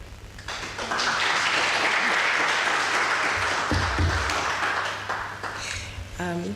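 Audience applause fills the hall after Dr Ibbo Mandaza's public lecture on the state of democracy in SADC, a dense, steady wash of clapping that swells quickly and holds for several seconds before a voice speaks at the very end.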